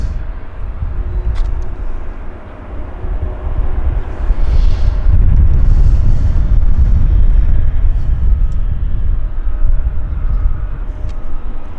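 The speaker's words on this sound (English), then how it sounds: "WestJet's making their way back to their gate" A WestJet airliner taxiing at Vancouver YVR airport, a loud steady jet engine rumble that swells midway and holds, heard from nearby outdoors.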